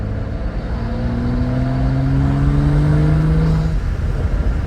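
A BMW F30 with an N55 engine and a Burger Motorsports performance intake accelerates through second gear. Its engine tone rises steadily in pitch for several seconds, close and loud, then drops away as the revs fall.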